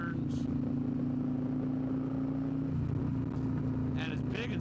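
Harley-Davidson CVO Road Glide ST motorcycle cruising in fourth gear through bigger turns, a steady low engine drone with a constant hum running throughout, close and continuous, with brief wind and rustle noise on top.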